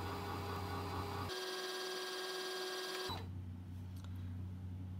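A Brother sewing machine runs steadily to wind a bobbin, giving a close, even motor whir with a high mechanical tone that drops out briefly and then resumes.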